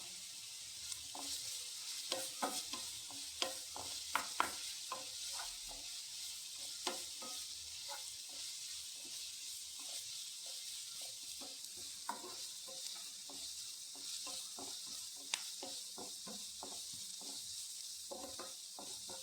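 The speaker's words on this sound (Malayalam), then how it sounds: "സവാള നല്ലോണം വഴറ്റിയെടുക്കുക" Salted onions sauté in a pan with a soft, steady sizzle and frequent scraping and tapping from stirring, heard fairly faintly and close, with no talking.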